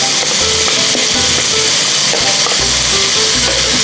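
Spices frying in hot oil for a vegan Penang laksa, a loud, steady sizzle close up that runs without pause, with faint scraping and stirring knocks throughout.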